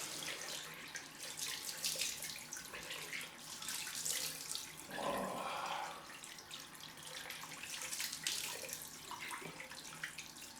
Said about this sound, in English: let's go with a cold rinse